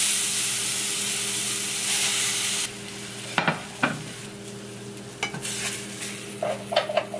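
Vegan pancake batter of cinnamon, vanilla and agave cooks in a pan with a steady close sizzle, then a few sharp clinks and scrapes of a utensil break in, with no one talking.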